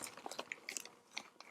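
Close, quiet crunching as someone bites and chews a crisp toasted sesame snack, a quick run of sharp crackly bites that thins toward the end, with no talking.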